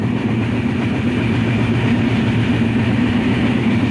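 Steady, loud low rumble inside a moving passenger train in Bangladesh heading toward Ishwardi and Rajshahi, a continuous droning roar with no distinct clacks and no voices.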